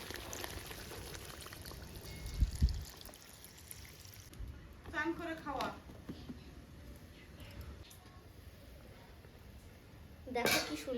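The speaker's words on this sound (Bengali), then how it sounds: "এখন এটাতে পরিমাণ মতো জল দিয়ে দেবো।" Water poured into fish curry cooking in a pan, several short splashing pours and clatters of the pan heard close by, with a person speaking intermittently over the kitchen sounds.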